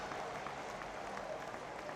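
Ice hockey fans stand and applaud at an indoor rink during a Braehead Clan versus Manchester Storm EIHL game, a continuous crowd clatter with scattered sharper claps, moderately loud and steady.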